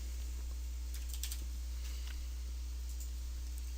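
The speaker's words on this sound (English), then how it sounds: "So you can click on Control and Print Screen on your keyboard." Computer keyboard keys pressed for a Control and Print Screen shortcut, a few quick sharp clicks in a small cluster over a steady low electrical hum.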